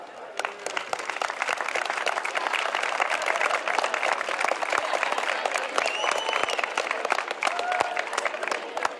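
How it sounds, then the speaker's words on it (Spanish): Warm, sustained applause from an audience at a public reading of Don Quixote in seventeen languages, a dense steady wash of many hands clapping with a few sharper individual claps standing out. "un fuertísimo aplauso para el caballero artista aventado, don Juan Queralt Blanch"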